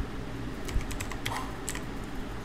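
Keys clicking on a computer keyboard as a Minikube command is entered, a short irregular burst of light taps close by over a faint fan-like hum, with no voices.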